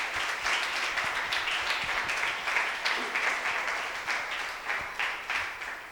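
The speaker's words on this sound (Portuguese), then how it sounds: "Você pode aplaudir o Senhor bem forte?" A church congregation applauds vigorously and steadily for several seconds, a dense wash of many hands clapping at close range with no voices over it.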